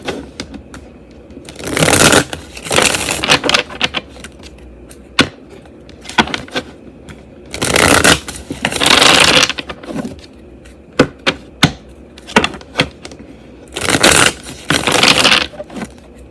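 Deck of playing cards being shuffled by hand, close up: repeated bursts of rapid riffling and fluttering, each lasting a second or two, separated by quieter gaps with light taps and handling.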